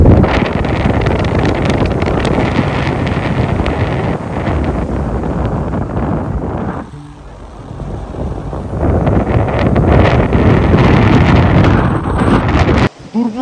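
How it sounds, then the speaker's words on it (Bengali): Strong wind roars across the microphone on a bridge near Durbuk, Ladakh, in winter. It is a loud, steady buffeting with a brief lull midway before it surges back. "এখানে জোর হাওয়া দিচ্ছে, পতাকাগুলো দেখলেই বুঝতে পারছো কিরকম হাওয়া দিচ্ছে"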